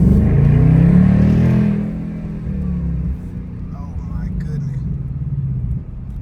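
A 2025 Ford Mustang GT accelerates at night, heard from inside the car as a loud, deep engine rumble that swells for about two seconds, then settles to a lower steady drone.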